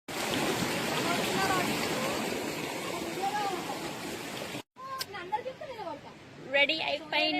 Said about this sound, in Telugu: ఈ వాటర్ ఫాల్స్ మాకు తెలియదు యాక్చువల్లీ.